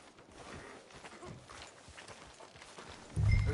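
Horse hooves clip-clop at a steady walking rhythm on a street in the Red Dead Redemption 2 video game, fairly close, ending with a louder, heavier thump.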